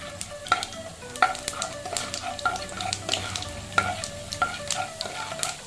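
Chana dal frying in a pan with oil, a continuous sizzle under repeated rhythmic scrapes and clinks of a spoon stirring the lentils, close and clear with no talk.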